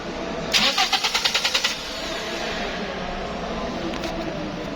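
A 2015 Toyota Corolla engine cranks without starting: about nine quick, even starter-motor pulses over roughly a second, then it stops, leaving steady workshop background noise. No one speaks.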